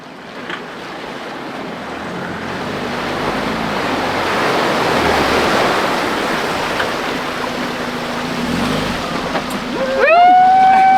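A 4x4 car forces its way through a deep creek on the Old Telegraph Track in Australia, water rushing and surging as it rises to a loud peak, then the engine revs up near the end.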